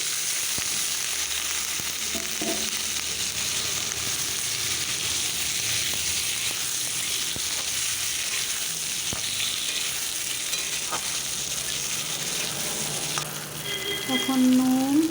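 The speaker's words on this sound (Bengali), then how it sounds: "এখন থেতো করা রসুন আর কাঁচা লঙ্কা চেটা দিয়ে দিচ্ছি। হালকা নাড়িয়ে চাড়িয়ে এখন আলু দিয়ে দিচ্ছি।" Crushed garlic, green chilies and potatoes frying in a pan for a potato, eggplant and egg curry, a continuous loud sizzle with occasional stirring scrapes and a few clinks near the end.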